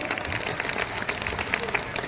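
Crowd clapping at a large Hindu gathering, a brisk, moderately loud patter of many hands with distinct claps standing out, continuous for the full two seconds.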